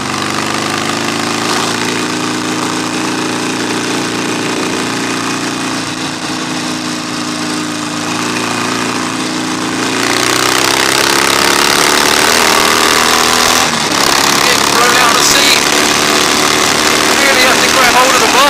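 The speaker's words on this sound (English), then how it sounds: "I know I've got a really loud bike" Harley Davidson XL1200 Forty Eight motorcycle with loud pipes, its engine droning steadily and loudly throughout while riding on the road, rising in pitch and intensity partway through.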